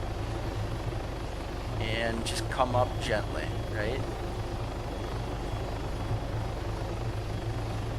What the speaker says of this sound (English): This is how a real helicopter would fly.